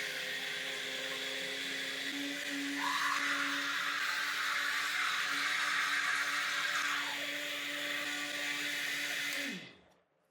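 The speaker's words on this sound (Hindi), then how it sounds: "अब हम जूसर जग में डालकर ग्राइंड करेंगे।" An electric juicer jug grinds apricots into juice with a steady, loud whirring drone that shifts pitch slightly midway, then winds down and stops near the end, with no talking over it.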